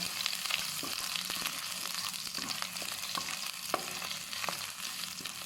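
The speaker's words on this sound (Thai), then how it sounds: "แล้วเอา ทั้งพริกขี้หนูกระเทียมสับ ลงไปคั่วนะคะ" Bird's eye chilies and minced garlic stir-fried in oil over low heat for a pork belly kaphrao, a steady close sizzle with repeated scraping spatula strokes and light clinks, no talking.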